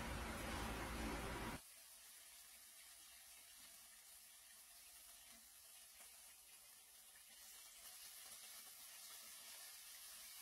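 Chicken pieces frying in a pan over high heat, a loud broad sizzle that drops abruptly to a steady, softer hiss and crackle, swelling slightly again toward the end.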